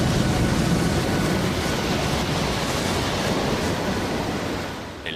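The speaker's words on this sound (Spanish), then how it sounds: "El mar está tormentoso y nuestro pequeño barco se encuentra hecho un desastre" Stormy Atlantic sea waves around a small boat, a loud, continuous roaring surge of water and wind that eases slightly toward the end, with no voices.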